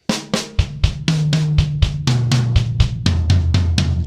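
A steady drum fill rolls across the kit, each strike sharp and ringing, with deep low bass drum thumps marking some notes.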